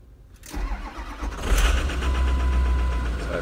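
A 6.0 Powerstroke diesel in a Ford Super Duty bucket truck cranks briefly, then fires and settles into a loud, deep, rough idle close by, with no talking.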